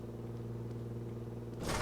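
In the Car Mechanic Simulator 2014 video game, a car's front wheels sit on a suspension tester, giving a low steady mechanical hum and rumble that swells into a louder, harsher burst near the end.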